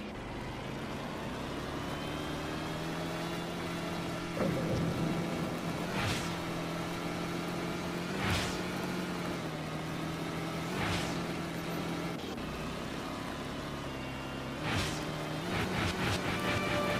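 A car engine drones steadily in the video game Rage, with a constant low hum and several swelling whooshes or revs recurring every couple of seconds, no talk over it.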